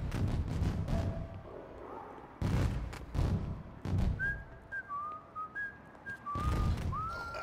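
Whistling in The Godfather video game, with short rising and falling whistle tones cutting through repeated booming fireworks bursts that come in loud clusters.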